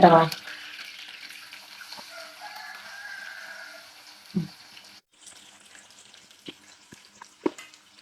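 Jackfruit frying in coconut oil in a heated pan with curry leaves, a sharp burst of crackling at the start settling into a soft steady sizzle, with occasional clicks and knocks and brief voices.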